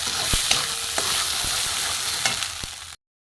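Thankuni (tharcol) leaf paste frying in a pan, a steady close sizzle with occasional stirring clicks and scrapes, no talking, ending abruptly after about three seconds.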